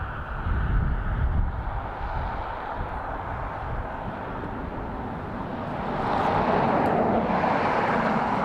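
An airliner landing on runway 10L at Dublin Airport: a steady, distant broadband engine roar that holds level and swells slightly near the end, heard outdoors with some wind, no talk.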